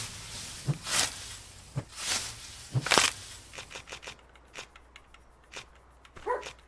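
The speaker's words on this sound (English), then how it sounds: "What are you barking at? The wind?" A dog barks in the video game Starsand in several separate sharp bursts spaced about a second apart, moderately loud, followed by softer scattered clicks and rustles with no speech.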